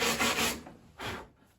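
Brush scrubbing across wood treated with wood hardener, several quick rasping strokes close by, then a pause and one more short scrub.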